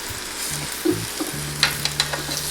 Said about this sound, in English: I'm gonna go ahead and take and flip these over.